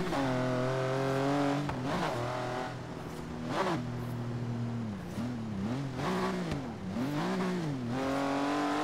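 A 1995 Porsche 911 GT2 with a stage 2 turbo, tuned to 970 hp, revs hard in Forza Horizon 3 while drifting. The loud, steady engine note climbs and dips through repeated rises and falls, with brief tire squeal.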